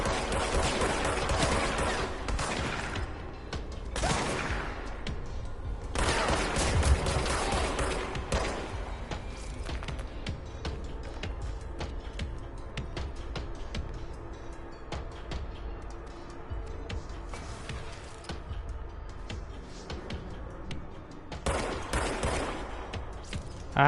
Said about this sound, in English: I forgot they could shoot through windows.